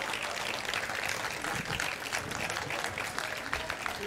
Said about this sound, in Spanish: Fuerte aplauso para Pepe Cotaina, por favor.